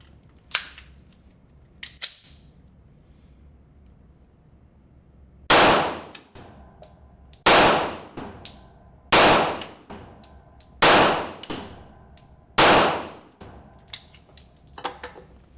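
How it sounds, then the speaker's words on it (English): A Springfield XD-e pistol fires five single-action rounds at 15 feet on a range, each a loud, sharp crack with a ringing tail, spaced about one to two seconds apart after a couple of faint clicks. "I'm going to shoot 5 rounds, single action only at 15 feet."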